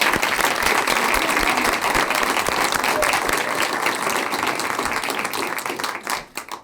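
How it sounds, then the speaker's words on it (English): An audience at a school board of education meeting applauds student performers and their teacher. Dense, sustained clapping holds steady for several seconds, then thins out and fades near the end. "Let's give them a round of applause."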